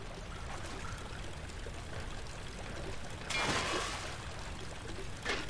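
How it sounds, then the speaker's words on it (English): Water trickling from a loose, leaking pipe in the horror game Amnesia: The Dark Descent: a steady low wash of flowing water, swelling into a louder pouring burst partway through, then a brief splash near the end. "One pipe is loose and leaking water."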